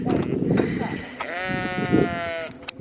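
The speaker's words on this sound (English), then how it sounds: "we're now in this field, which is where they've put the sheep with the poorly legs" A sheep in a field with lame sheep gives a long wavering bleat, close by. People talk over the first part.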